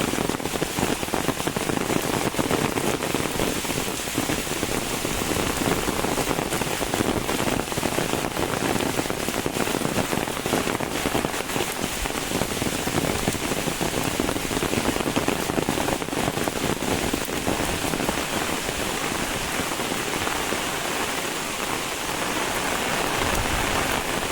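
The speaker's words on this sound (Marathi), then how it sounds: "दाखवतो इकडे मी पाऊस कसो पडता" Steady heavy monsoon rain in a Konkan village pours down continuously, a dense broadband hiss with scattered pattering drops throughout, no voices.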